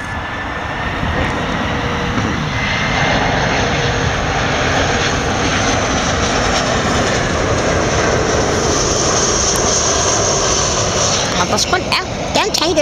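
Airbus A340-300 airliner engines roaring loudly at Heathrow, a sustained broadband jet rumble with a rising whine that holds steady throughout, with faint voices in the background.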